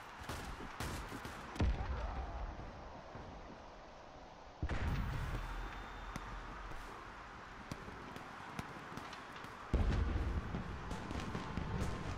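Grenade blasts and gunfire in the shooter Warface at an oil depot map, with deep booming bursts near 1.6, 4.6 and 9.8 seconds over a steady rumble of shots and battle noise.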